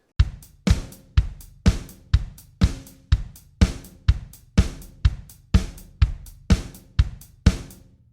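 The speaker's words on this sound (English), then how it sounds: "If we move our right hand to our hi-hat" Steady drum kit groove with the right hand now moving to the hi-hat, bright cymbal ticks and drum hits repeating in an even rhythm, about two strikes per second, played close and alone with no talking.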